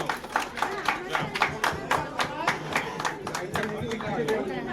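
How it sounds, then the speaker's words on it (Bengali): Audience clapping at a Bengali engagement ring ceremony, a steady run of hand claps under an announcer's voice and crowd chatter. "এতক্ষণ ধরে অধীর আগ্রহে অপেক্ষা করে আছি সেই রিং সেরেমনি, সেই রিং সেরেমনি। একটু জোরে করতালি হোক।"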